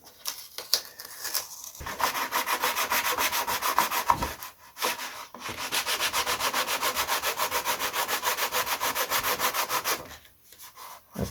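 Sandpaper rubs on a cut repair piece for a crash-damaged Lunak glider, making close, steady back-and-forth rasping strokes that pause briefly twice. No talking.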